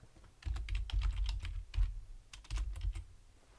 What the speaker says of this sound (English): we'll type in Christmas